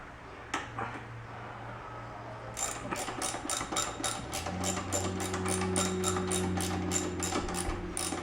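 Close, quick ratcheting clicks come from a wrench loosening bolts on a Royal Enfield Continental GT 650, arriving in a rapid regular burst over a low steady background hum.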